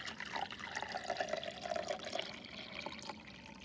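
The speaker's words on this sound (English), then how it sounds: "I'm going to pour this water" Water poured into a beaker, a steady continuous splashing pour with a rising gurgle as the vessel fills, close and fairly clear throughout.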